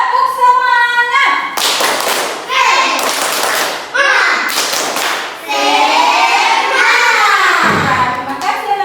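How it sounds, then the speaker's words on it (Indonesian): Schoolchildren in an Indonesian classroom perform the patterned 'tepuk semangat' cheer clap, bursts of loud rhythmic clapping mixed with chanting children's voices, interrupted by brief pauses. "kita tepuk semangat. Tepuk semangat."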